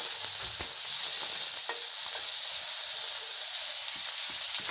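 Chopped onion and green chilli stir-fry in hot oil in a wok for chowmein, with a loud, continuous close sizzle and occasional stirring scrapes and clinks.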